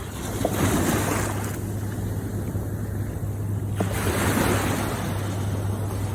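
Ocean waves wash up a beach on Hulhumale in the Maldives, two broad surges of surf over constant wind noise, with no talk.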